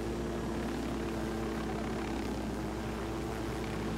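A helicopter in Ghost Recon Wildlands gives off a steady, droning rotor and engine hum, constant and moderately loud throughout with no talk over it.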